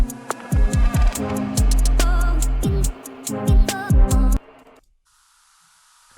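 A musical sample pitched up two octaves and reversed, with swooping tones and clicky transients, loud and dense, then cutting to near silence with a faint hiss.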